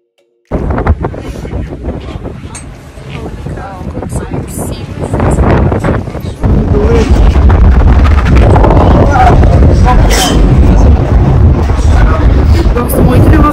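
Strong wind buffets the microphone aboard a ferry heading to the Statue of Liberty in New York, a steady roar that grows louder partway through, with someone talking over it.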